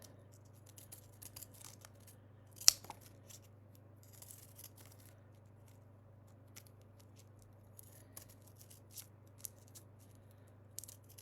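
Scissors snip green paper into thin strips for a Christmas craft, a few quiet, sparse cuts with one sharper, louder snip early on, in a near-silent room with no talking.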